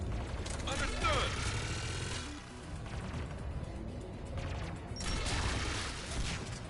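Gunfire in Mass Effect 3 crackles in rapid bursts mixed with mechanical clatter and impacts, loud and dense, with voices talking over parts of it.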